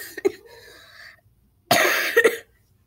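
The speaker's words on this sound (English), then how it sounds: "I cough all the time." Two separate bursts of harsh coughing from a person with a cold, each a short cluster of rough, close-up coughs separated by a brief silence.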